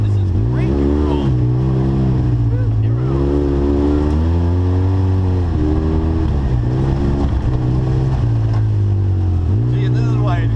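An off-road vehicle drives a trail in two-wheel drive, sliding around as its engine revs up and down in repeated surges, loud and close throughout, with people talking over it.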